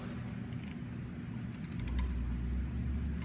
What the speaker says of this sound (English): I don't know if you heard the click on the video or not,